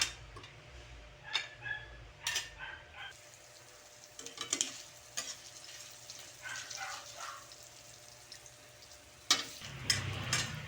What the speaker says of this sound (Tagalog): So ay gisa na natin yung luya muna.